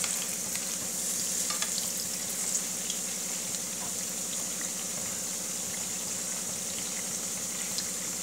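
Gulgule, sweet batter fritters, frying in oil over a low gas flame in a home kitchen, giving a steady soft sizzle with faint bubbling throughout and no voices.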